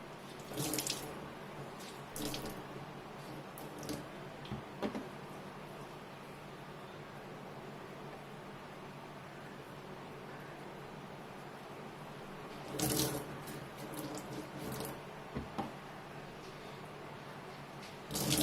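Water runs steadily from a tap while yarn skeins are rinsed and wrung out, a continuous hiss with occasional louder splashes and drips; no one speaks.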